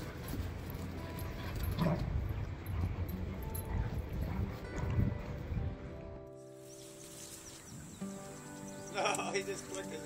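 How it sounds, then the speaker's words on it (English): Two puppies play in the snow on a cold winter morning, yipping and whimpering in short bursts while people talk nearby. "A pair of snow pups are recorded playing during a cold winter morning."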